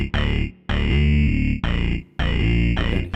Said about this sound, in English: You can hear that this bass has more distortion than the first one and more body.